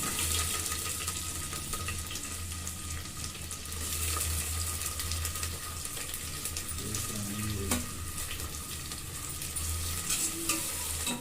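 Chopped onions frying in a pan with a little cinnamon and cloves for prawn pulao, a steady close sizzle with occasional stirring scrapes, no talking.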